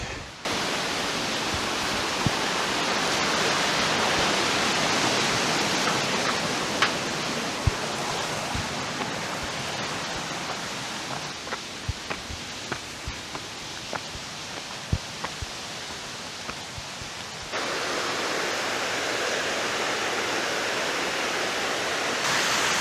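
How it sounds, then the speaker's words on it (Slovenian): Steady broadband rush of the 17-metre fourth waterfall in Pekel gorge, Slovenia, a continuous roar of falling water close by with faint scattered knocks and clicks over it. "Tole je pa že za noge najlepši slap po soteski."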